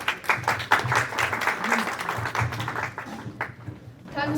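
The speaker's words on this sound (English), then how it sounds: "Please give a big round of applause," An audience at a declamation contest claps for a participant, a burst of fairly close, uneven applause that thins out and fades toward the end.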